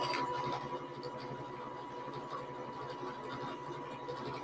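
A sewing machine stitches fabric with a steady, even mechanical whir that runs unbroken at moderate volume under a low background hum, with no speech.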